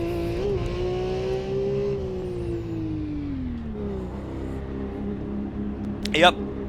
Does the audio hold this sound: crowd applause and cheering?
no